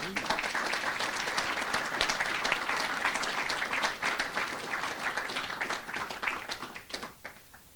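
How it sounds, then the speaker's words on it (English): A room full of people applauding, steady dense clapping that thins out toward the end. "let's give a round of applause"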